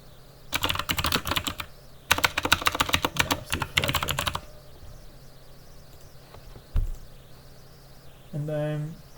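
Rapid clattering keystrokes on a computer keyboard come in two dense bursts, close and fairly loud, then fade into quiet room tone with a brief soft thump and a short tonal beep at the end.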